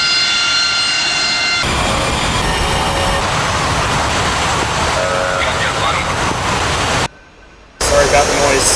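A jet aircraft lands in a flight simulator game, its loud engine roar and rumble filling the scene, cutting out briefly to near silence before returning, with talking over the top.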